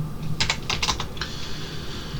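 Fast typing on a computer keyboard while writing Discord.JS code, a short cluster of close crisp key clicks followed by a quieter tap, in a quiet room with no talk.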